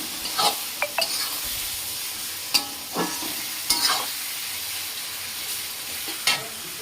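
Chicken sautéing in a pan with cumin and turmeric powder: a steady close sizzle of frying, broken by several sharp scrapes and knocks as it is stirred, with no talking.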